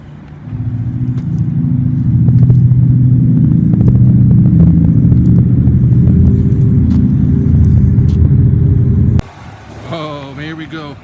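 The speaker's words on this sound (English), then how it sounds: "We are going through the car wash." A car rolls into a haunted Halloween car wash tunnel with a loud, steady engine rumble that cuts off abruptly, followed by a few seconds of voices.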